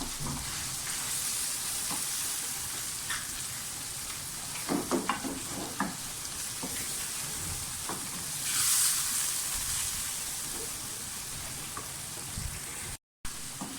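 Keema mince frying with roasted cumin and crushed whole coriander, a continuous close sizzle with scattered stirring scrapes and taps, swelling briefly before settling back to a steady crackle.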